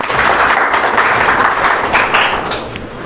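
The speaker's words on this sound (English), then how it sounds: "Please welcome him by a huge round of applause." An audience at a Teacher's Day speech event gives a round of applause, a dense, steady wash of many hands clapping that holds for about three seconds at close range before easing slightly at the end.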